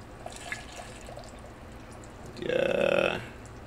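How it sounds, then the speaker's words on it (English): Almond milk poured into a blender for a juice smoothie, a short liquid gush lasting about a second, close and clearly louder than the quiet room around it. "Let's pour some almond milk in."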